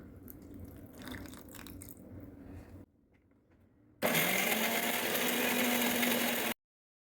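A kitchen mixer grinder whirs loudly as it grinds roasted peanuts, water and fresh coriander leaves into chutney. The motor runs in two bursts separated by a quiet pause, the second one harsher and more intense.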